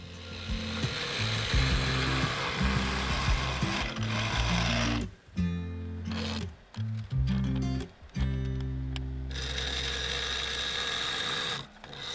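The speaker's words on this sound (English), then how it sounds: "I used the bowl gouge to take a thin cut to smooth things out" A bowl gouge takes thin smoothing cuts inside a turned wooden vase on a lathe, a close scraping hiss with a low rotating hum, broken by several brief stops before cutting resumes.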